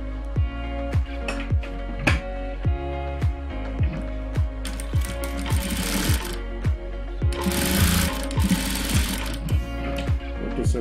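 A sewing machine stitches elastic onto a cloth face mask, a steady fast mechanical whir of needle strokes at an even rhythm, close and loud throughout with no voices.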